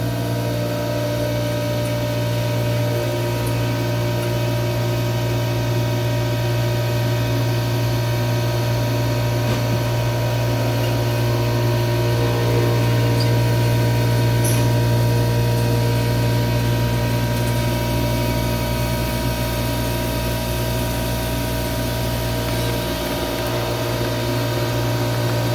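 CNC mill taking a deep 600-thou cut at 40 inches per minute and 3,500 RPM while machining a powered fishing reel body, a steady continuous hum and whine that stays level and unbroken throughout.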